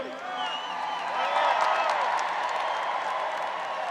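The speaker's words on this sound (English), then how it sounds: "Listen, you can clap." Crowd applause and cheering at a political rally speech in Novi, Michigan, a steady wash of clapping that swells in the middle and holds, with voices mixed in.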